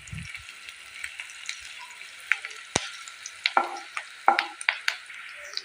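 Onions for a jackfruit curry fry in a pan on a high flame. A quiet bed of sizzle is broken by repeated sharp spatula scrapes and taps as they are stirred.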